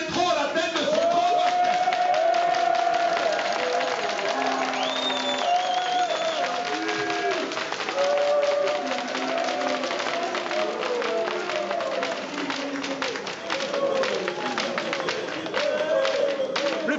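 An audience at a village festival evening applauds to welcome a big orchestra, sustained crowd clapping and cheering for many seconds while musical tones and voices sound underneath.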